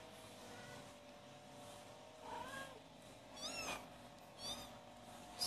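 Indoor house cat meowing: several separate meows, with a rising call near the middle and two sharper cries toward the end, set over a low household hum.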